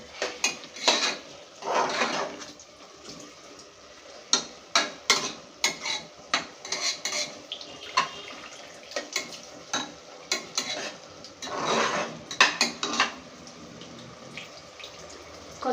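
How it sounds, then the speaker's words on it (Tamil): Ginger garlic paste sautés in a pan for tomato rice, with a low sizzle under frequent spatula scrapes and clinks against the metal, coming in irregular bursts. "இஞ்சி பூண்டு பேஸ்ட்டு பச்சை வாடை போகிற வரைக்கும் வதக்கணும்"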